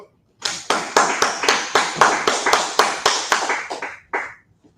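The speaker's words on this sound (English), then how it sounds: "clap it up" About a dozen loud, evenly spaced claps ring out close by in a quick steady rhythm, then stop abruptly, with a last clap after a short gap.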